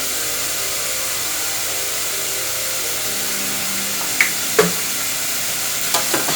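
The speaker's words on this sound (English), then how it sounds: "Give it a good mix here." Parsley, basil and other seasonings are mixed through food in a cooking pan: a steady soft sizzle and stir with a few sharp scrapes and clicks toward the end, no talking.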